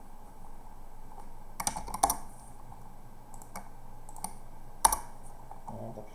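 A few scattered keystrokes on a computer keyboard while coding a simple calculator app, crisp clicks in short bursts against a quiet room background.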